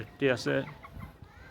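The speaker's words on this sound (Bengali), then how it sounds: "একটি কক, বাকি দুটি হেন, অর্থাৎ একটি মোরগ, বাকি দুটি মুরগি" A couple of loud, close clucks in quick succession from a rooster and two hens, followed by softer faint clucking sounds.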